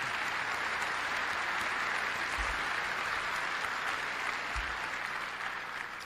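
Audience at a Berkshire Hathaway shareholder meeting claps in sustained, even applause from a large hall, dense and steady, with faint low thumps underneath.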